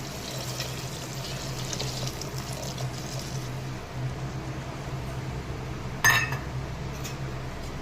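Coconut milk pours steadily into cooked rice with a soft, continuous liquid trickle, a low hum behind it and one brief clink of a utensil near the end.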